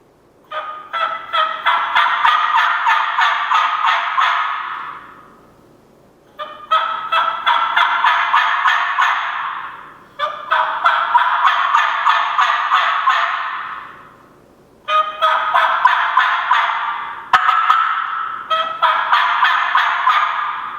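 Loud, repeated yelping calls from a turkey mouth call come in several long runs, each a rapid series of raspy notes, separated by short pauses.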